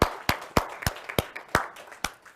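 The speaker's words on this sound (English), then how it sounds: "let's give them a round of applause as well" Audience at a veterinary college donor celebration gives applause, a small group clapping in roughly eight distinct, fairly loud claps with a loose, uneven rhythm.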